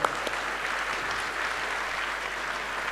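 Applause from an audience at a school event marking International Day of the Boy Child, a dense, steady clapping crowd that holds at an even level throughout.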